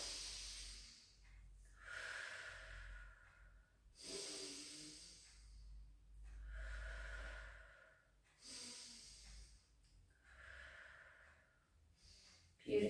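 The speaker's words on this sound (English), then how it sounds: "Take a breath in." Slow, deep breaths during a lower-body stretching routine, several audible inhales and exhales in a steady rhythm, close and soft, with no speech.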